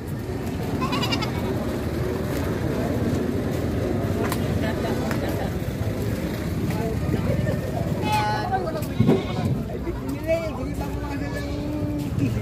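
Goats bleat at a busy livestock trading market, several short cries scattered over constant crowd chatter and background noise, with people talking throughout.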